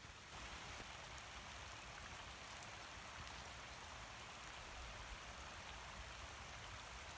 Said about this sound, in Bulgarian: Много приятен дъждец се изсипва в момента.